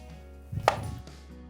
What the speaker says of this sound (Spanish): Está bien cortar en trozos relativamente pequeños para que se macere bien